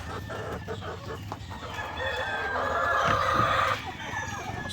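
Chickens on a poultry farm cluck and a rooster crows near the feeding trough, a dense flock chorus that swells into a louder, sustained crow near the end before easing back to steady clucking.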